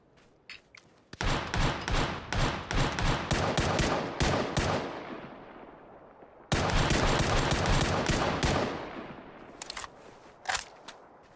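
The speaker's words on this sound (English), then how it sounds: "Gotta shoot through the grass now." Rapid automatic gunfire from a PUBG match, fired through grass: a long sustained burst of close, loud shots, a brief pause, then another extended burst, trailing off into a few scattered single shots.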